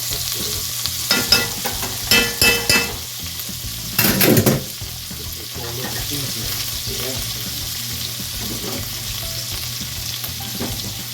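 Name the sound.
turkey frying in sauce with fat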